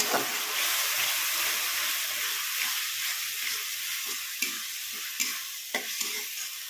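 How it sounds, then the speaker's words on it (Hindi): Ground spices, including turmeric and coriander powder, sizzle steadily in hot oil for rajma curry, with a spoon stirring and scraping through the constant frying hiss. "मसाले को तब तक भूनिएगा जब तक से हमारे मसाले में से तेल न छोड़ दे।"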